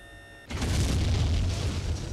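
A mortar round explodes in Jagged Alliance 2: one sudden loud boom after a short quiet lead-in, followed by a heavy rolling low rumble that sustains to the end.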